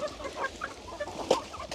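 Hungry farm chickens cluck in short, irregular bursts at feeding time out in open fields, fairly close and alone for under two seconds.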